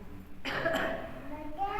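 A single short, harsh cough bursts out near the middle, followed by a bit of faint voice and background noise.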